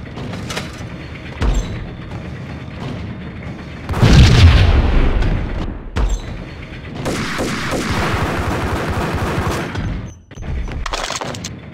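Grenade blast and gunfire in the video game Max Payne: a loud, deep explosion bursts out midway, framed by rattling, continuous gunshots and booming impacts throughout.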